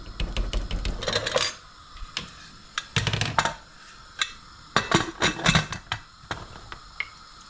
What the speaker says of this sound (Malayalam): ഇനി കുക്കർ ഞാൻ അടയ്ക്കുവാണ്